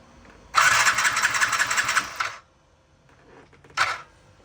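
A Yamaha Jog SA36 scooter engine cranks on the electric starter in a near burst of about two seconds, stops, then gives a second short crank after a pause.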